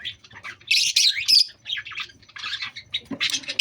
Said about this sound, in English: And that is my lovebirds.